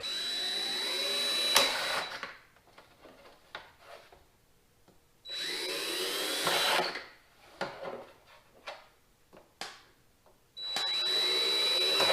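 A power drill runs in three loud bursts, whining as it bores holes for fender flares on a Jeep XJ, with quieter clicks and handling noises in between.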